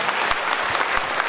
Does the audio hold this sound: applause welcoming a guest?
yes